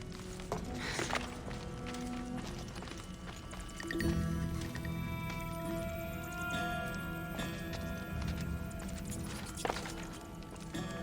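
In the video game Assassin's Creed Odyssey, horse hooves clop at a steady trotting rhythm amid a busy, moderately faint game soundscape, with no talk.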